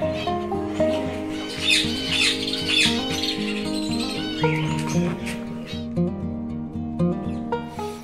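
Captive rescue birds at a bird park in Hartbeespoort call in a dense, overlapping chorus of squawks and shrill chirps, steady and fairly close throughout with no talking.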